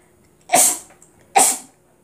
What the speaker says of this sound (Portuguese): peraí que eu vou espirrar